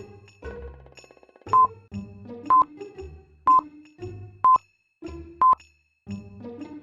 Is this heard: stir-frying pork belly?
no